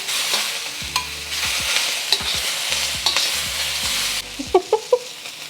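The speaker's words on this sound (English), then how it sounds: "We're gonna add our Spam." Spam fries in a wok for kimchi fried rice, a bright crackling sizzle under repeated rhythmic scraping and tossing of a metal spatula, ending in a few sharp clanks.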